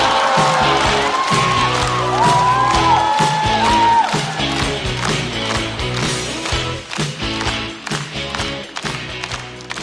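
An audience at a stand-up comedy show claps and cheers to welcome a comedian, a loud sustained crowd sound mixed with bright entrance music.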